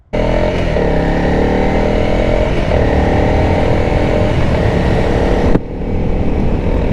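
A Honda CRF300L dirt bike fitted with a 14/45 sprocket revs hard and steadily for wheelie attempts, a loud, close, continuous engine roar that cuts off sharply near the end and then idles lower.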